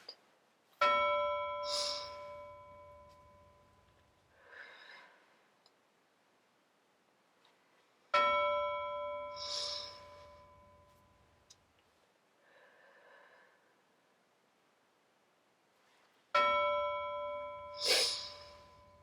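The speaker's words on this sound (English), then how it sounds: "listen for our bell so you know when to start breathing in big" A bell rings three times at even intervals of about eight seconds, each strike bright and ringing out, followed by soft breathing between rings.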